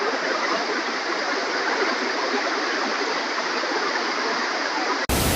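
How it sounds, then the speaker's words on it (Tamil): Athirappilly Falls in Kerala, swollen with monsoon rain, roars steadily and loudly, a dense continuous rush of falling water with no pauses from start to finish. "இந்த ஃபால்ஸ்ல எப்பவுமே இவ்வளவு தண்ணி இருக்காது."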